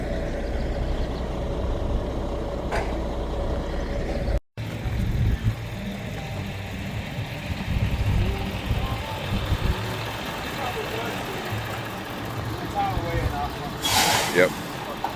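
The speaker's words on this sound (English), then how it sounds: "Well, you gotta pivot the truck to get it to clear." Tow truck maneuvering, a steady low engine rumble with a brief dropout, an air brake hiss near the end, and speech over it.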